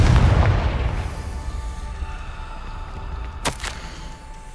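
A Confringo fire spell explodes in Hogwarts Legacy with a heavy boom that trails into a low rumbling tail, followed by a brief crackling burst.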